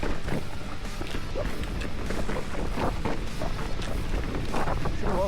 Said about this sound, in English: Should have wore goggles, it's a little bit windy.